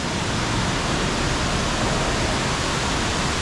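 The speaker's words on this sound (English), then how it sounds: "And there's that waterfall." An indoor waterfall at the Gaylord Opryland Hotel in Nashville roars steadily and loudly as a dense, unbroken rush of falling water, heard alone without speech.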